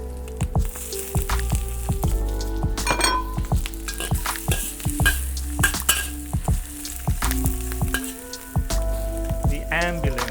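Julienned green bell peppers fry in hot oil in a wok, a close, steady sizzle broken by frequent clanks and scrapes of a utensil stirring against the metal pan.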